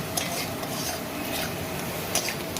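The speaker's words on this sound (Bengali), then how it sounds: "খুব ভালোভাবে এটাকে একটু কষিয়ে নিতে হবে যাতে মশলার কাঁচা গন্ধটা চলে যায়" Spices being sautéed and stirred in a pan for tadka: a continuous close sizzle with rhythmic scraping of a utensil and a few metallic clinks, no voices.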